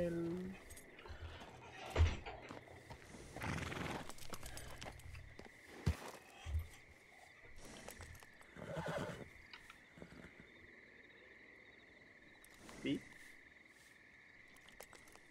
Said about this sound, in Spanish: se me había desbocado el caballo